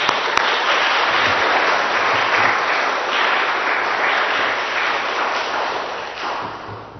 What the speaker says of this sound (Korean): 목사님 나오실 때 우리 박수로 환영하면 좋겠습니다